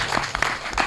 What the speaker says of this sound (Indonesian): kita berikan tepuk tangan ini